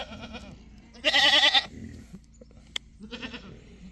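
Goats on a homestead bleating in several bursts, with one loud, wavering bleat standing out and fainter calls before and after, fairly close by with no talking.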